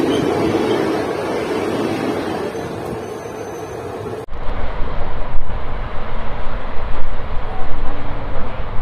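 Loud, continuous roaring rumble of an electric locomotive hauling the Ernakulam–Bangalore Intercity Express rushing past up close, shifting abruptly partway through to a rougher, churning clatter.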